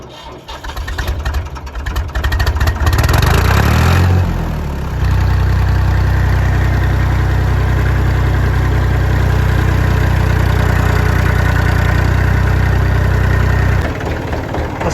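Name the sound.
Massey Ferguson tractor engine cold start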